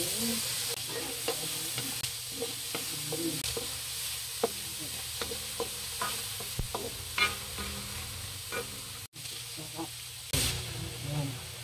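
Chinese kangkong stir-fries in a little oil, a continuous sizzle broken by repeated scraping and clinking of a spatula against the pan, with a sharp clatter near the end.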